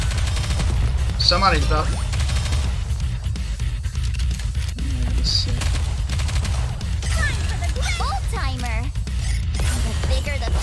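Rapid gunfire bursts and explosions fill a battle in the video game Goddess of Victory: Nikke, loud and near, with chirpy effects and a voice talking over the shooting.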